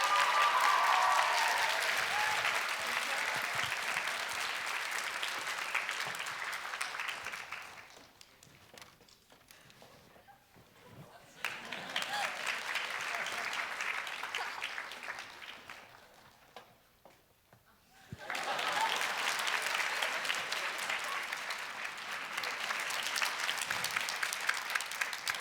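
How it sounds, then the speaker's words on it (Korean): Audience applause at an elementary school graduation worship service, steady broadband clapping from a large crowd that swells, dips twice to near quiet, then resumes and holds to the end. "박수로 환영하겠습니다"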